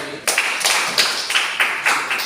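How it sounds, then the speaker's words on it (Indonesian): Sparse, rhythmic group clapping in a classroom, a handful of hands striking together in a steady beat of about six claps, fairly close and moderately loud with no talk. "Tepuk tangan dulu tuh."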